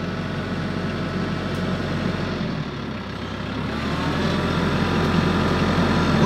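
A tractor with a dual hydraulic pump and backhoe, its diesel engine running steadily at close range. The drone stays loud and constant and rises slightly toward the end, with no one talking.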